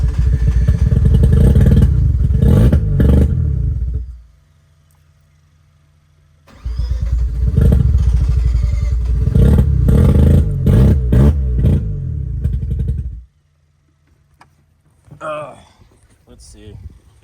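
A Mazda FC RX7 rotary engine, freshly rebuilt, runs loud and close in two long bursts of rough idling and revving, each cutting off into near silence, with a faint voice at the end.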